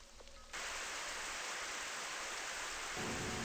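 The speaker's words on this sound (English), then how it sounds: "Is it raining inside or something? I can't see. It doesn't rain. Look, on the ceiling. Sprinklers." Indoor ceiling sprinklers spraying water in the video game Super Danganronpa Another 2, a sudden loud steady hiss of spray that starts abruptly and continues as a dense, unbroken rush.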